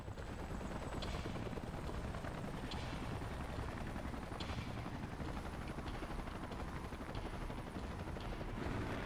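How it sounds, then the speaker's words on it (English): Salvage helicopters arrive in the video game Xenoblade Chronicles X, a steady loud rotor roar filling the whole stretch with faint periodic whooshes and no voices over it. "Let's call in the salvage choppers and get it out of here."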